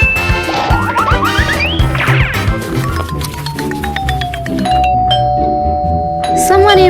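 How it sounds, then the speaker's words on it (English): A doorbell chimes with bright, ringing tones during a paper-doll dress-up costume party scene, sounding over busy background music and voices. "Someone is ringing the doorbell."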